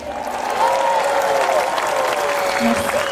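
Audience applause for two singers and a troupe of dancers at a stage show, a steady dense clapping wash that swells after the first half second and holds loud throughout, with voices and tonal traces riding faintly over it.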